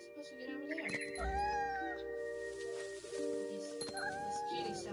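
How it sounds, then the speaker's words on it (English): A cat meows several times in a high, drawn-out, plaintive way within the video game What Remains of Edith Finch, over a soft musical background, with a voice speaking over it. "This kitty sounds cute."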